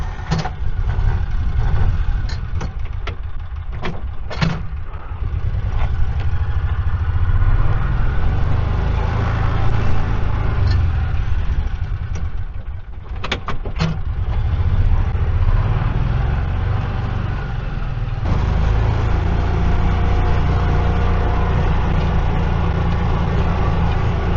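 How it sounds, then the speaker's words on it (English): A Kawasaki Mule utility vehicle's engine runs steadily after maintenance, a loud, continuous low rumble with occasional sharp clicks and knocks, and its tone shifts slightly partway through. "let's crank the engine and go for a spin"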